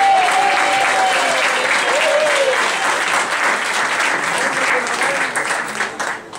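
Audience applause at a Liberal Party event in Quebec, a dense steady clapping from a crowd that holds for several seconds, then thins slightly near the end, with faint voices mixed in.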